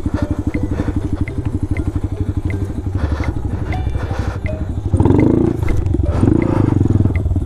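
Off-road motorcycle on knobby tires, engine droning steadily up close before the throttle is blipped into a louder, rougher rev near the end, with thumping clatter mixed in.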